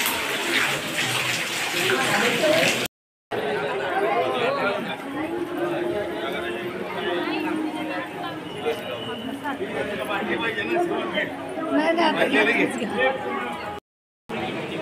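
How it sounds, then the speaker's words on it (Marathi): Water pours steadily from a cow-mouth spout at a temple, a continuous rushing splash that stays close and loud under the chatter of a crowd. There is a brief break near the start and another near the end. "पाहू शकतो इथं गायमुखातून कसं पाणी येतं"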